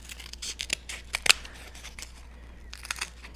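Scissors snip through cardboard in a quick run of sharp cuts, close and fairly quiet, with one louder crunchy snip in the middle and a few more near the end, no talking over them.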